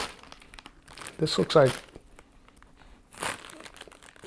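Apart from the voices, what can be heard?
plastic spice bags crinkling from a jar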